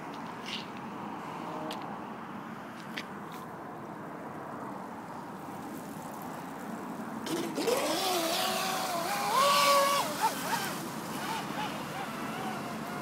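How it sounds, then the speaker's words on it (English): A nuclear-themed 28-inch RC boat runs on open water, its faint motor whine and wash carried under wind and outdoor talk, growing louder as it passes closer near the end. "Can you get it just to go in a straight line, coming back down?"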